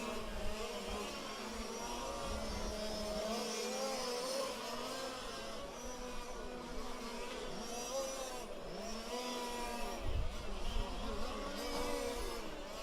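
Fifth-scale race cars battle around a track in a dense, continuous buzz of small engines rising and falling as they pass, with steady overlapping whine throughout.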